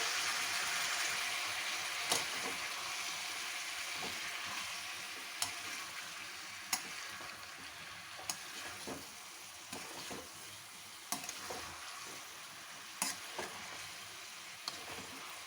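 Aloo gobi with spices frying in a pan, a steady background sizzle broken by sharp stirring clicks and scrapes of a spoon every second or two; no voices.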